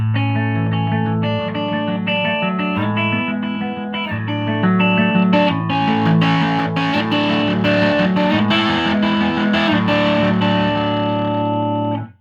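Electric guitar through a touch-sensitive effects pedal, driven and effects-laden, played as sustained chords and notes that grow louder and grittier as picking gets harder, continuous without pauses.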